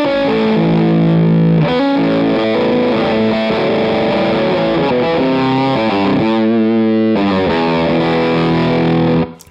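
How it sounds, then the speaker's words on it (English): Electric guitar through a Bennett Sea Eagle high-powered rock'n'roll distortion pedal with the treble knob turned fully down, playing loud, sustained, saturated chords and riffs, dark and thick, ending abruptly. "with the treble knob all the way to the left."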